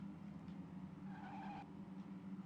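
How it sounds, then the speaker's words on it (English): A car's engine in a PS1 Midas racing game drones steadily as a tire squeal rises through a turn, quiet and continuous with no talking. "This car has the same awful turning noise as the other car."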